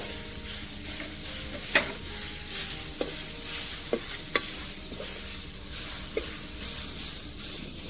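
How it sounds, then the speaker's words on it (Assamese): Grated coconut sizzles in a wok while it is stirred, a continuous hissing fry broken by occasional sharp scrapes and taps of the spoon. "এতিয়া এই একেটা কেৰাহীতে নাৰিকলখিনি দি দিছো।"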